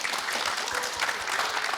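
An audience at a job-placement event claps in a dense, even burst of applause that fills the room briefly at moderate volume.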